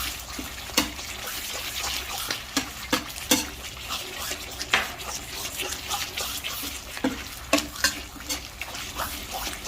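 A spoon stirring a pork mixture with coconut milk in a pan: repeated clinks and scrapes against the metal at an irregular pace over a continuous wet bubbling sizzle, with no talking.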